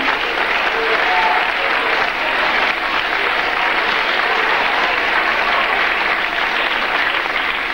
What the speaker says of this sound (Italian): anche qui vorrei un applauso per i nostri alpini.